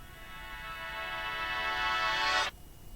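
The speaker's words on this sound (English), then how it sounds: "I took that section and reversed it to create this transition" A reversed fade-out of a song's final note serves as a transition in a podcast theme remix. The tone swells smoothly from soft to loud over about two and a half seconds, then cuts off abruptly into near silence.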